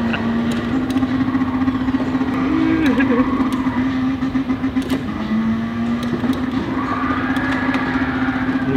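A McLaren 720S engine drones steadily from inside the cabin while gears change, the pitch dipping and climbing at each shift; people talk over it throughout.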